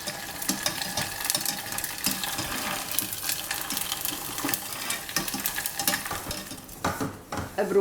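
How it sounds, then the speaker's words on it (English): Homemade varuval frying in a pan for a South Indian thali, a continuous crackling sizzle with stirring scrapes, close and fairly loud, fading toward the end. "So I'm also going to fry some homemade varuval"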